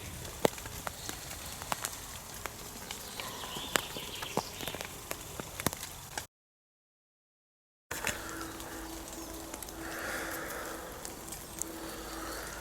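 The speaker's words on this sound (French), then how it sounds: "On espère qu'il va s'arrêter de pleuvoir" Steady rain patters on a surface in a forest with scattered sharp drops, a soft continuous hiss broken by a brief silence midway.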